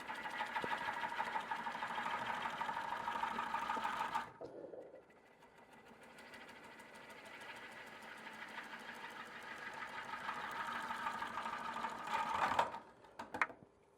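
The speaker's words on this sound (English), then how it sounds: "The lathe is going quite slowly right now, so the cut has to be much slower." A wood lathe spins slowly while a tool rough-turns a bowl blank, giving a steady whirring, rhythmic hum with cutting noise that drops briefly near the middle, then builds again before a few sharp knocks at the end.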